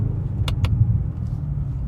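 A BMW G90 M5 fitted with a Scorpion mid pipe and a RamAir carbon intake rumbles at a steady, deep idle close by, with two quick sharp clicks near the start.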